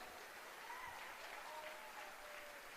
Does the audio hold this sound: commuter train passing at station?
no